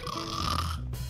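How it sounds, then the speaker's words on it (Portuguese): A character snores in the Minecraft video game, one drawn-out rasping inhale that fades into a short pause, close and clear with no talk over it. "Eita, ele tá roncando."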